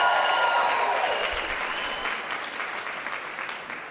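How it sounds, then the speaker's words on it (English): A large graduation ceremony audience, standing in a hall, claps in a sustained, dense wave of applause that starts loud and fades slightly toward the end. "Give yourself a round of applause and thank everyone around you."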